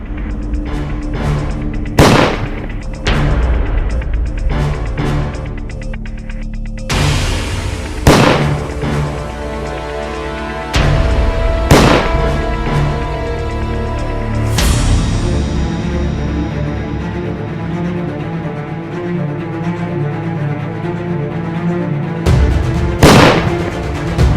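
Gunshots from a licensed gun ring out in CCTV footage: a series of sharp, loud bangs spread irregularly over a noisy, reverberant background, with several clustered reports and occasional isolated cracks.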